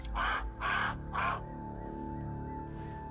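A bird in the video game Grounded caws three times in quick, harsh succession, loud and close, then falls quiet under a faint steady hum.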